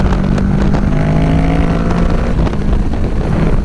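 A 2020 Kawasaki Z650 motorcycle engine drones loudly and close as the rider accelerates, with rising engine tones under heavy wind buffeting.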